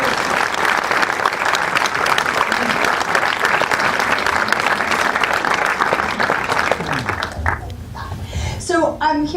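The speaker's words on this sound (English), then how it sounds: "You want to give these guys a round of applause?" An audience at a film festival Q&A applauds the guests with dense, sustained clapping that fills the room, tapering off near the end as a voice begins speaking.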